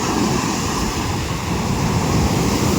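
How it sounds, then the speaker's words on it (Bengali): Sea waves on Marina Beach, Chennai wash in around bare feet, a loud, continuous rushing surf with wind buffeting the microphone close up and no voices. "সমুদ্রে জল একটু পায়ে নি, ঠিক আছে, পায়ে ঠেকুক ঢেউটা"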